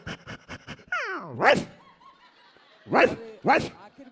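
A man imitates a dog with his voice, first a run of short quick yips, then drawn-out whining yelps and sharp barks, loud and close in a quiet room.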